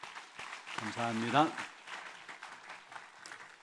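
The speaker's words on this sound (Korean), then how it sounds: "잠시 박수로 환영하도록 하겠습니다." A church congregation claps to welcome a guest, the applause moderate and spread through the room while someone speaks briefly over it.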